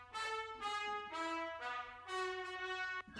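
Cinebrass trumpet ensemble heard dry with its reverb send off: a series of short sustained brass chords with crisp attacks and little room tail, loud and without any talking.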